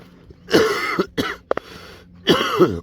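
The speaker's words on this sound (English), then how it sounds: "This cough, by the way, it's because I've been laying in my tent smoking." A few rough, close coughs in short bursts with pauses between, ending in a final harsh cough, no talking.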